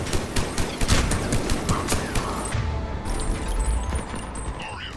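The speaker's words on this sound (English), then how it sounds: "Cannons initializing." Ship cannons in a Mass Effect video game fire a rapid burst of sharp, repeated blasts early on, giving way to a rumbling mechanical wash, with faint talk underneath.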